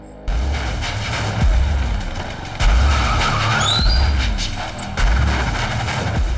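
A car skids and brakes hard on the road in a street scene, several loud bursts of tire noise with a sharp squeal rising midway, separated by short pauses of background traffic.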